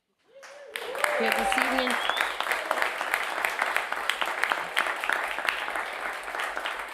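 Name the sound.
audience applause for Ash Taylor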